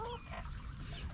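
Backyard chickens vocalize with short honking, goose-like calls near the start, then quieter clucking and squawks over a steady outdoor background on a hot day.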